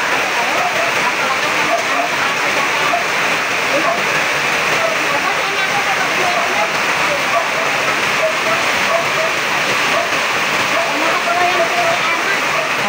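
Heavy rain pours down in a steady, dense hiss that fills the whole stretch without pause, loud and close, with possible faint voices blending into the downpour.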